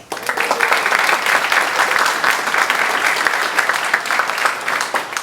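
Sustained applause from the congregation at a church annual parish meeting, many hands clapping steadily and evenly from start to finish in an indoor hall.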